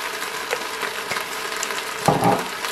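Smoked sausages sizzling in a Cookeo multicooker with pepper and garlic make a soft, steady frying hiss close by, broken by a brief clunk of stirring near the end.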